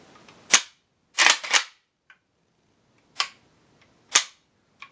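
A PSL-54c rifle chambered in 7.62x54R gives a handful of sharp, isolated mechanical clicks from its trigger and action. They are close and crisp, spaced irregularly over a few seconds with near silence between them.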